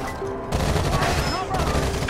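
Heavy gunfire from a firefight in the tactical shooter Rainbow Six Vegas, set in Las Vegas: dense, loud bursts of automatic shots with crashes. A brief quieter lead-in gives way to sustained rapid fire.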